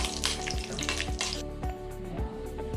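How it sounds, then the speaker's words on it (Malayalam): Cashews and cardamom frying in hot ghee: a dense, bright sizzle that crackles close by, with low rhythmic thumps and a steady hum beneath, and no voices. "നമ്മുടെ നെയ്യ് ചൂടായിട്ടുണ്ട്. ഇതിലോട്ട് നമുക്ക് അണ്ടിപ്പരിപ്പും ഏലക്കായും ഇട്ട് കൊടുക്കാം. ഒന്ന് മൂപ്പിച്ചെടുക്കാം."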